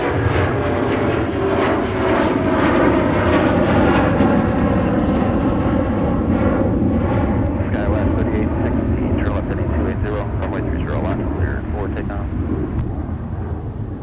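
A Delta airliner in Thank You livery taxis toward its gate at Minneapolis–St. Paul airport, its engines producing a loud, steady roar throughout while a person talks over it.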